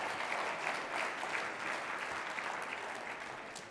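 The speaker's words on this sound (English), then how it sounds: "that was a pretty good applause" Conference audience applause fills the room, a steady dense wash of many hands clapping at moderate loudness throughout, with no voices standing out.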